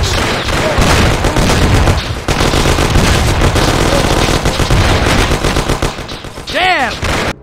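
Heavy gunfire erupts in the Mafia: The City of Lost Heaven video game, dense rapid bursts close and loud, continuing almost without pause, with a sweeping whine near the end.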